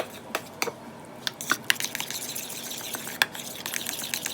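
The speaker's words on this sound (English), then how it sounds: "Give that a good mix." Minced ingredients being mixed into mayonnaise in a bowl, giving soft, irregular wet stirring and scraping sounds with a few sharper clicks of the utensil against the bowl, close and fairly quiet, no talking.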